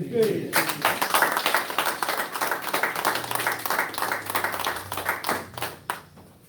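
An audience at a temple service gives a round of applause for the ministers: dense, lively clapping that carries on steadily for several seconds and thins out at the end, with voices faintly underneath.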